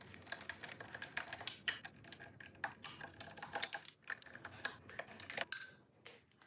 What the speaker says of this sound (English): And now we're gonna loosen the strings a little bit.